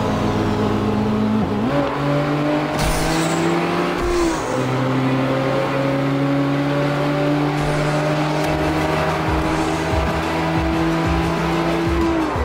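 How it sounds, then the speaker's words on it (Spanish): Two race cars speeding side by side in a highway racing video game, a loud continuous engine roar with repeated pitch dips and climbs as gears shift, and brief squeals, no voices. "Somos dos carros que estamos corriendo a una gran velocidad"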